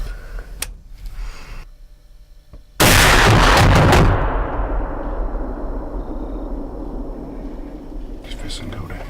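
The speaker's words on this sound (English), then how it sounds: "Mackenzie cocks and steadies her gun for a shot" A rifle shot at a whitetail buck during an Arkansas hunt, one sudden loud blast that rings out and fades slowly in the outdoor air, after a stretch of quiet with faint rustling.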